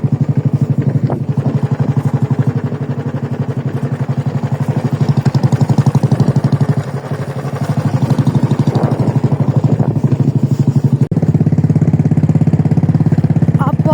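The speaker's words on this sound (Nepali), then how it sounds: "भोट सकेर हिँड्यो हाम्रो काकासँग बुलेट बाइकमा" A Bullet motorcycle engine runs steadily on a ride from Linkhim, giving a loud, continuous low thumping rumble for the whole stretch, with a brief dip midway and a slight rise near the end.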